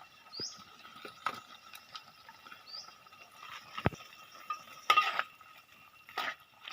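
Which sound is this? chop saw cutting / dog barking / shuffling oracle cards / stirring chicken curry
stirring chicken curry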